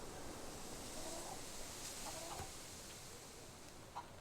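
Chickens cluck in the Fable III chicken race, faint scattered clucks over a steady wash of ambient noise resembling surf.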